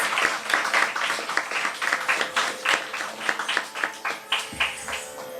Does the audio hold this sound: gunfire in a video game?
no